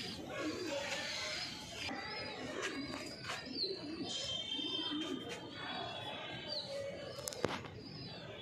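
Malwai pigeons for sale in Ludhiana, Punjab, cooing softly in a steady, overlapping background murmur, with occasional faint chirps.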